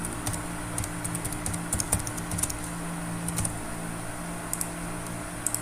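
Typing on a computer keyboard during form input for a programming project: steady, close clicking keystrokes with brief bursts and pauses, over a constant low hum, with no talking.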